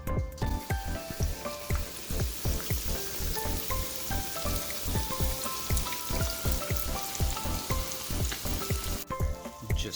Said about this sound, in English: Just listen to that white perch go. It's frying up very nicely here.